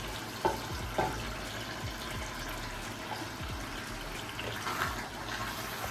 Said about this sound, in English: And now I'm going to go with this fish stock.